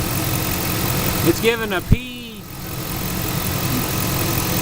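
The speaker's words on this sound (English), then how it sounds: "This is with the engine running." A Chevrolet Suburban with a bad fuel pump and lean-running fault idles close by in a steady, rumbling drone, with someone speaking briefly over it.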